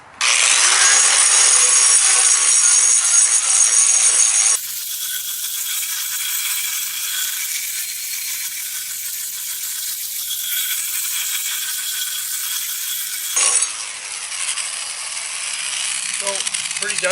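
A 4 inch diamond turbo cup wheel grinds dry concrete with a loud, harsh, steady whine, easing briefly to a lower, rougher drone before surging again near the end.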